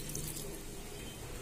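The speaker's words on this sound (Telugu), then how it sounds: "దాన్ని 2 గ్లాసుల వాటర్ పోసుకున్నాను" Two glasses of water poured into a pot of Nellore-style sambar with tamarind extract, a soft continuous splashing rush heard up close and fairly quiet.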